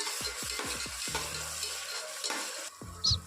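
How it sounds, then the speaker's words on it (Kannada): Tomatoes and onions fry in a pan, with a soft sizzle broken by a quick series of scraping spatula stirs, then slower strokes and a small metallic clink near the end; nobody speaks. "ಇವಾಗ ಇವಿಷ್ಟನ್ನು ಸ್ವಲ್ಪ ಹೊತ್ತು ಫ್ರೈ ಮಾಡ್ಕೊಳ್ಳೋಣ"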